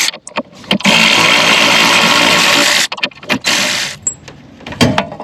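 Ratchet or wrench work loosening a 15mm bolt on a 2007 Chevy Suburban during a fuel pump job, a long steady broadband burst of mechanical noise followed by shorter clicks and knocks, close and fairly loud.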